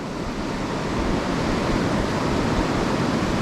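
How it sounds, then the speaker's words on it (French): Waves on rapids of an Amazon river give a steady, dense rush of broadband water noise that stays loud and even throughout, with no voices. "Quelques bonnes vagues même. C'est ça qui faisait du bruit."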